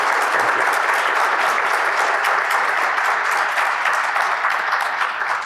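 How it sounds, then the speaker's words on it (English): Steady audience applause at a business talk on customer experience, thanking two presenters before Q&A; dense, even clapping that holds at full strength throughout and fades slightly at the very end, with no voices over it. "can we please get some applause for Abhii and Carolynn?"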